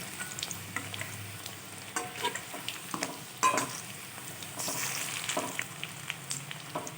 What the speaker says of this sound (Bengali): এইভাবে আমি কটা বড়া ভেজে নেব